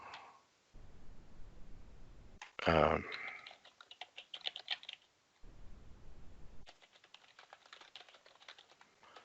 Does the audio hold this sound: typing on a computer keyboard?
yes